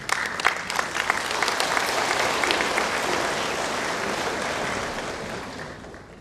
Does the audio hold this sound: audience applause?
yes